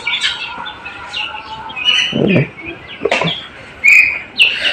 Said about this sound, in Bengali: এটা হচ্ছে বর্তমানে আমার কোয়েল পাখি